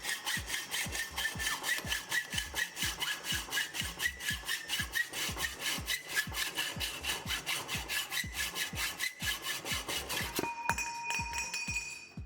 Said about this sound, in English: Threadless saw guide provides straight cut on steel and carbon tubes.